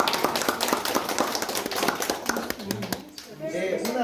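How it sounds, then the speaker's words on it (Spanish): A small audience at a talk for older adults claps in a quick, uneven burst of hand claps that fades out near the end, with voices audible underneath. "les invito a ustedes a un fuerte aplauso, ustedes mismos también"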